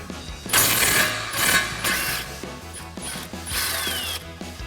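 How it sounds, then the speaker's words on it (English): An impact wrench with a 15mm socket rattles off a pinch bolt on the lower ball joint of a 2005-2009 Mustang GT front suspension, several loud hammering bursts in quick succession with brief pauses between them. "we're going to use a 15mm socket on our impact and an 18mm wrench to get that off"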